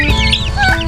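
Chickens cluck close by in a short, loud burst of overlapping calls, with a steady low background hum.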